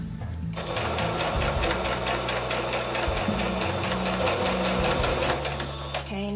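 A sewing machine stitches a bias-edged pocket for a doll, running steadily through bulky layers with a fast, even needle rhythm that stays close and loud for most of the stretch before stopping near the end.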